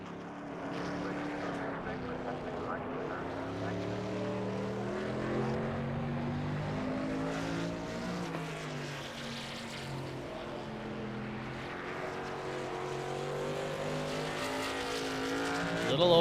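Race trucks in a racing video game lap the Indy road course, their engines droning steadily with shifting, layered pitch bands throughout, loud and continuous, with a commentator talking over the racing.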